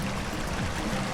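Water runs steadily over rocks at the Little Nerang Creek crossing, a close, continuous broadband rush with no talk over it.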